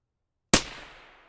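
A single rifle shot fired at a target 450 yards out cracks sharply and loudly out of silence, followed by a quick decaying echo rolling away downrange.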